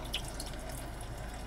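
Recorded rain ambience plays from the sound feature of a 2021 Kia Seltos SX: a steady, soft wash of falling water with light drips, continuous and even throughout.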